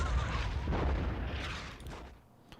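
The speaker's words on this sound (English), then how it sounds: "Where do I want to bombard with my artillery?" Artillery bombardment in the video game Commander: The Great War comes as a dull, rolling boom that swells at the start and fades away over a couple of seconds.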